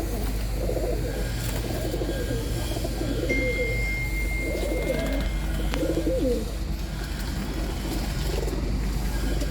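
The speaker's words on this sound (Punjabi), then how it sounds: "ਇੱਕ ਵਾਰੀ ਨਜ਼ਰ ਮਾਰੋ, ਇਹ ਮਹਿੰਗੇ ਨੇ ਕਬੂਤਰ" Pigeons kept for sale coo repeatedly at close range, with soft throaty calls rising every second or two over a constant low hum, and no one speaking.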